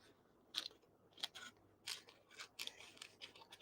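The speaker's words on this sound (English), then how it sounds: "I have the worst set of scissors that are here" Scissors snip through ribbon during card making at a craft table, a series of five or six crisp, close cuts spaced about half a second apart in a quiet room.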